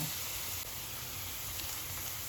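Leek sizzling in oil in a pan, a soft, steady crackling hiss that stays even throughout, fairly quiet and close, with a small clatter right at the end.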